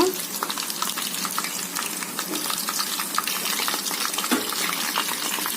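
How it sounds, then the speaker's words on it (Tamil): Mushroom pieces frying in hot oil in a pan over low heat for mushroom 65, a dense crackling sizzle throughout with light bubbling and occasional stirring. "கொஞ்சம் சிம்மில் வச்சு வேக வச்சுக்கோங்க காளா நல்லா உள்ளே வேகணுங்க"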